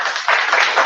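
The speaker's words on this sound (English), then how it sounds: "Live studio audience, give yourself a round of applause." A live studio audience claps and applauds in a short, dense burst of hand claps, loud and close, swelling slightly toward the end.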